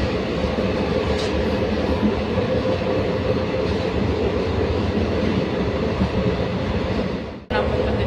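The Nagercoil to Chennai Central superfast express, train 12690, travels on its tracks, heard from inside as a loud, steady rumble and rattle of wheels and carriages that cuts out sharply near the end.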